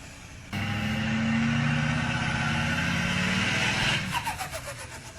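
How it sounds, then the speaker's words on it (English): A Duramax diesel pickup truck revs steadily, then lets off, and the turbo flutters in a quick series of chattering pulses that fade away, heard up close with no talk. "The best flutter I've ever heard from a Duramax."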